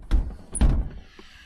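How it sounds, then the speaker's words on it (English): An RV washroom door swings shut with a couple of close, solid thunks, the second louder, followed by a faint rattle in a quiet interior. "Close that washroom door."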